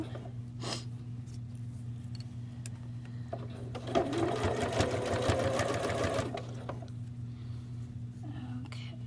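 A sewing machine stitches a neckband onto a V-neck tee shirt in a close, steady whirring run of rapid stitching lasting a couple of seconds, framed by a low constant hum and brief quieter moments.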